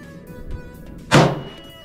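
A single sharp shot rings out at a small target at a youth shooting range, one brief crack rising out of quiet background noise.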